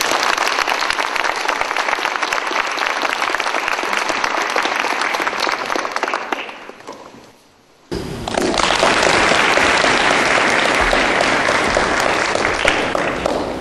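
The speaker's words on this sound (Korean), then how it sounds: "큰 박수 맞아주시고요" A lecture audience applauds loudly and steadily, the clapping dying down briefly before a second, full burst of sustained applause.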